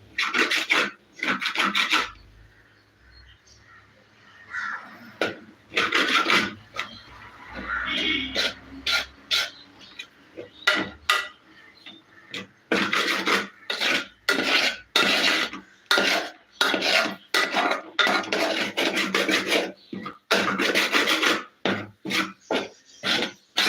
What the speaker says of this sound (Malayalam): ഇളക്കി കൊടുക്കുന്ന സൗണ്ടാണ്